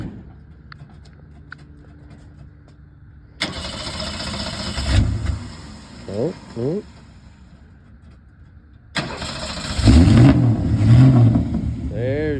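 A first-generation Dodge Cummins pickup's diesel engine cranks and fires up loudly, settles, then revs hard again, close by with a brief exclamation from a voice over the engine noise.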